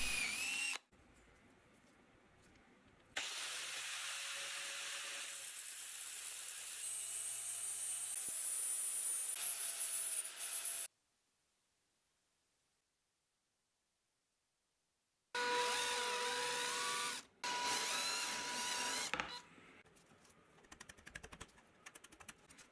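A power tool cuts aluminium washers, two made at once, for stacked plywood work: loud sustained whirring and screeching bursts, a long silent gap, then more tool runs with clicks.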